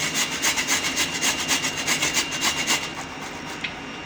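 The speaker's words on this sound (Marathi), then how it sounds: "अशी मध्यम आकाराची किसणी घ्यायची आणि आता आपल्याला हे भोपळा किसून घ्यायचा आहे" Peeled pumpkin grated on a medium-sized grater, a close rhythmic rasping of rapid back-and-forth strokes, steady for about three seconds and then trailing off.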